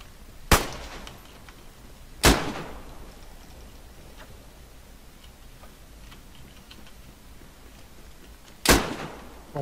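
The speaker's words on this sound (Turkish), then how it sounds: "Çok yakın ya o silah sesleri bana duyuyor." Three sharp, loud gunshots ring out in a video game firefight, spaced irregularly with a long gap before the last, each cracking out of a faint background.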